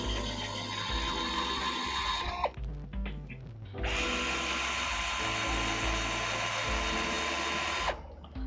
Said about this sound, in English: So we're putting some reinforcement screws in right now.